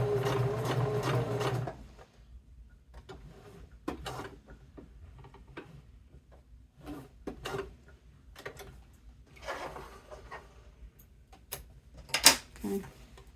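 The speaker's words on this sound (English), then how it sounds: "we're going to sew a top stitch from those 2 marks we made with our cash pocket" Sewing machine top stitching a bifold wallet: a loud opening run, then slow, quiet ticks and soft handling noises with a few sharper clicks as stitches are placed one by one.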